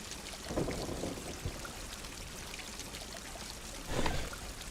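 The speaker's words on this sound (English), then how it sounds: "You just need to water it." Water pours onto a plant in the hidden-object adventure game Grim Legends: The Forsaken Bride, two soft splashing bursts heard faintly over a steady hiss of background ambience, with no talking.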